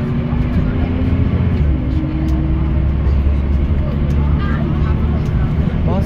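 A Dodds bus, fleet number 1464, rumbles along with a steady low engine drone and a shifting gear whine, loud and close from inside, while passengers talk over it.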